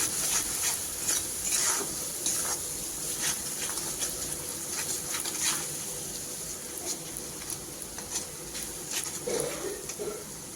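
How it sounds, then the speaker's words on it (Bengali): Spice paste with salt and turmeric frying for a chickpea curry, a soft steady sizzle broken by intermittent scraping and stirring taps, fairly quiet and with no voices. "সমস্ত মশলা দেওয়ার পর আরও পাঁচ মিনিটের মতো বাকি মশলাগুলো কষিয়ে নিতে হবে"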